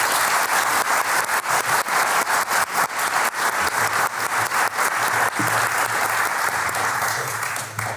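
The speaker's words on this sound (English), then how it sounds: "Give both of them a warm round of applause." An audience at an anti-racism lecture event gives a warm round of applause for two speakers, steady crowd clapping that holds evenly for several seconds and then thins slightly toward the end.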